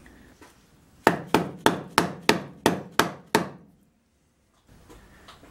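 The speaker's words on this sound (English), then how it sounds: "you may have to actually tap these on with a dead blow mallet" A dead blow mallet taps soft jaws onto a metal lathe chuck: seven sharp, evenly spaced knocks in quick succession, close and fairly loud, then quiet.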